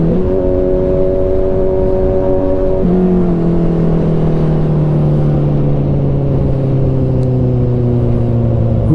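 A Kawasaki Z900RS inline four-cylinder fitted with an Arrow exhaust revs loudly up close, holding a steady high note before dropping into a lower, gradually falling drone, with no talking.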